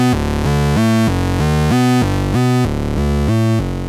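Modular synth melody run through an STG Soundlabs .COM frequency divider, loud buzzy tones gliding smoothly between pitches in a steady repeating pattern, with no voices.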